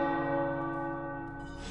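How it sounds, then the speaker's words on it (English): Tower bells ring in the video game Marvel's Midnight Suns, a single sustained, resonant bell tone with rich overtones slowly decaying, heard alone. "The tower bells are ringing."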